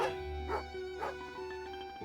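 Husky dog in the video game Genshin Impact giving two short gruff barks over a steady game music bed, close and moderately loud.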